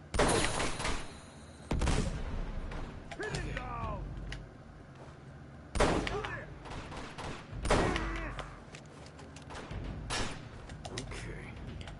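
Gunfire rings out in Uncharted 2: Among Thieves, with several loud, sharp bursts and volleys spaced several seconds apart, while a person talks between and over the shots.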